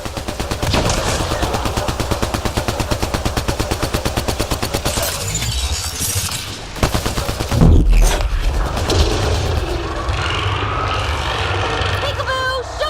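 Sustained rapid automatic gunfire from the Mass Effect Andromeda video game on PS4, loud and close, with a heavy boom near the middle and more bursts and game sound effects continuing afterward.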